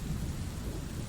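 Thunderstorm sound effect in a bedtime story: a steady, dense roar of rain with a low rumble of thunder underneath, continuous and fairly loud, with no voices.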